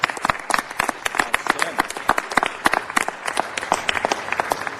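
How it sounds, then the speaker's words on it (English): Crowd applause at a Panda Express Day event in Los Angeles, sparse individual hand claps rattling irregularly and fairly close, with some voices mixed in. "Let's give them a big round of applause, folks."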